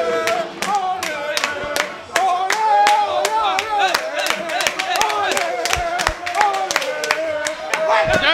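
Ghana fans clap rhythmically and celebrate a goal against South Korea, loud repeated hand claps over excited crowd voices and singing nearby.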